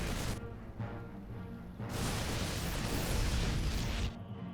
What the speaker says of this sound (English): these are photon cannons